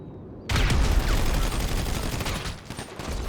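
Carbine Rifle gunfire in GTA Online, a loud dense burst of rapid automatic shots that starts abruptly and rattles on continuously to the end, with no talking.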